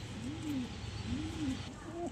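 A pigeon coos three times in slow, rising-and-falling calls, close and steady over a constant background hum.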